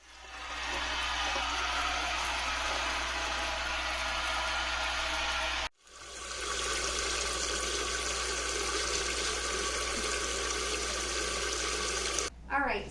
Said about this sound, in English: I'm going to fill this up with hot water and get this turned on because this is my electric canner.